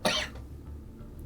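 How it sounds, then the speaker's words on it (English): One sudden, sharp cough bursts out close to the microphone, followed by quiet room tone. "Cough came suddenly."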